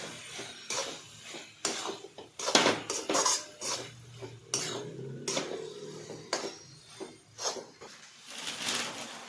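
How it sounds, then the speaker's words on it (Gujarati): A spoon clatters and scrapes against a metal pan as dry fruits are stirred into bottle gourd halwa, with irregular knocks and clinks spread across the whole stretch. "હવે આ બધું મિક્સ કરી દઈશું ડ્રાયફ્રૂટ નાખીએ"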